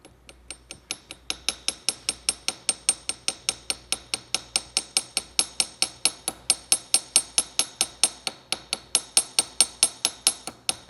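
A small hammer taps rivets on jewelry in a studio, a fast steady run of sharp metallic clinks, dozens of evenly spaced light strikes close by, with no talking.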